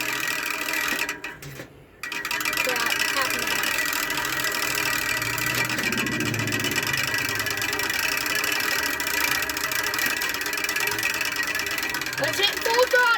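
A homemade engine runs with a fast, buzzy mechanical clatter, loud and continuous after a brief cut near the start, with a voice talking over it at times.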